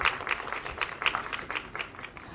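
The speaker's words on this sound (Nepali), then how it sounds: "एकचोटि जोरदार ताली दाईका लागि" A seated audience gives a short burst of applause for a Bagmati River cleanup campaigner at a live comedy event, the clapping steady and moderately loud across the whole span.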